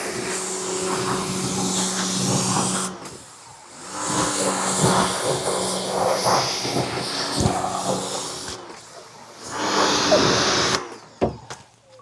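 A power washer spraying down an RV on a rainy day, heard as loud steady hissing blasts that stop and restart several times, with short quiet gaps between bursts.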